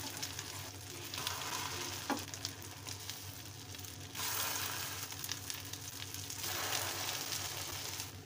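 Chicken resha mix kebabs frying in a pan give a steady, soft crackling sizzle throughout, briefly swelling louder in the middle, with an occasional faint scrape and no talking.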